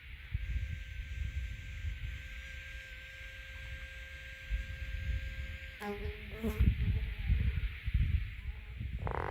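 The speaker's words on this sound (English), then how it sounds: "I can hear the buzzing of the flies" Flies buzz continuously close by outdoors on the fell Stybarrow Dodd, with wind and rustling in the background.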